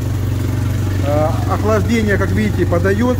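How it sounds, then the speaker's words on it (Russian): A water-jet outboard motor on a Solar aluminum boat runs at a steady, throbbing idle close by, its low droning pulse continuous under someone talking. "Вот мотор работает"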